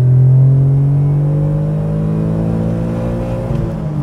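A Mitsubishi 3000GT, a heavy four-wheel-drive car, accelerates with a loud, close engine drone that climbs steadily in pitch through the gears, a continuous rising roar with no talking.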